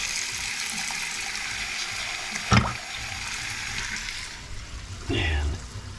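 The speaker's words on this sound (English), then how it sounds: "Okay, the water flowing there." Water runs from a newly installed sink faucet in a steady, close hiss of flow, with a short clunk partway and a louder gush near the end.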